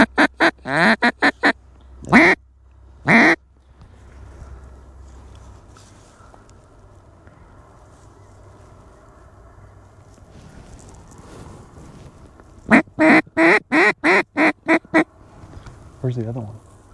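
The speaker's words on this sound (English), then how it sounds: "we just had a mallard hen land in the hole" Mallard ducks quack in loud, rapid bursts of repeated calls at a dry-field hunt, a cluster at the start and another run near the end, with a quiet stretch of faint outdoor noise between.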